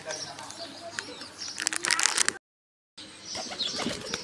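Pigeons sitting outside give soft coos and bursts of wing flapping nearby, with a brief flurry of flaps building near the middle before a short silent gap.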